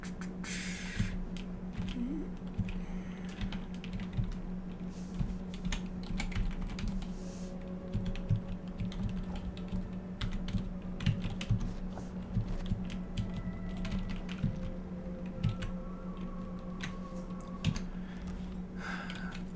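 Steady computer keyboard typing during play of the stealth game Dishonored 2, with irregular clusters of key clicks over a constant low game hum, close and moderately loud.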